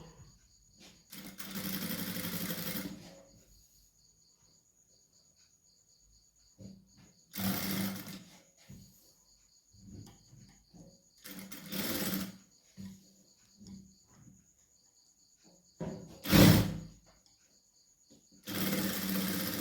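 A sewing machine stitches the back net finishing of a ready-made garment in several separate bursts of fast mechanical whirring, each a few seconds long, with quiet pauses between them as the fabric is repositioned.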